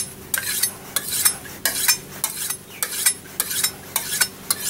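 A kitchen knife is drawn repeatedly across a sharpener from back to front, giving a steady rhythm of about a dozen short, bright scraping strokes, close and clear with no talk.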